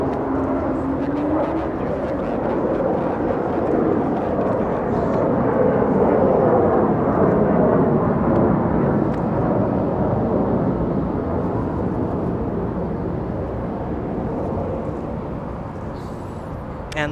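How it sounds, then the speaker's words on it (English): A Delta airliner departing Los Angeles International Airport gives a broad, sustained jet roar that swells and slowly fades, heard from a distance outdoors with no voices. "There goes another Delta departure."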